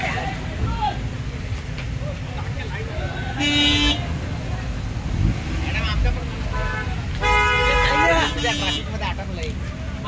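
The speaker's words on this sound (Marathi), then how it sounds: "इथे खूप ट्रॅफिक झालेली आहे" Busy road traffic with repeated car horn toots, two long honks standing out over a steady rumble of engines, with people talking nearby throughout.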